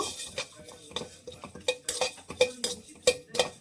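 Cumin seeds dry roasting in a pan with no oil over a low flame, a utensil repeatedly scraping and clinking against the metal in an irregular stirring rhythm, close and clear, with no talking.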